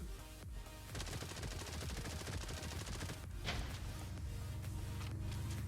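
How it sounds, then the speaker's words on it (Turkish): An Uzi-like submachine gun fires in a video game as a loud, continuous stream of rapid automatic shots lasting several seconds, with only a brief pause near the start. "Biraz Uzi tarzı ama biraz daha farklı. Sesi de bu şekilde gördüğünüz gibi."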